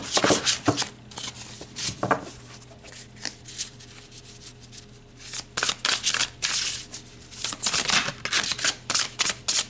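Tarot cards being shuffled by hand during a reading, with repeated crisp riffling bursts and soft card slaps that come in uneven clusters and are close and fairly loud, with no talk.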